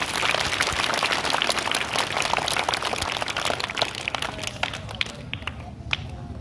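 Students and audience at a school performance of a Class 9 song clap together, a dense sustained round of hand claps that thins toward the end into a few scattered claps, close and loud.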